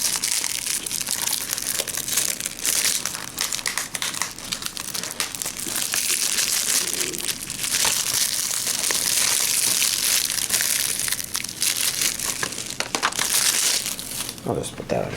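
Plastic wrap on a Blu-ray anime set is cut open with scissors and pulled away, giving prolonged crinkling, crushing and tearing sounds up close. Scattered snips and rustles continue throughout, with occasional talk in the background.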